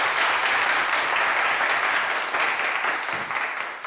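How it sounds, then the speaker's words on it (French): Steady applause from a live show audience fills the whole stretch, dense and even before tapering slightly at the end. "Je voudrais que vous puissiez vous applaudir également,"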